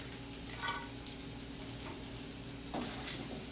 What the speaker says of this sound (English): you can hear how crispy they are when they hit the pan